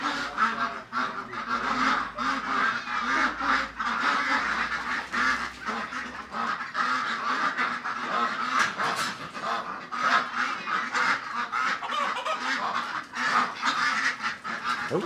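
Ducks and geese in a pen quack and honk continuously for the whole stretch, a dense, loud flock chorus with overlapping calls and no talk.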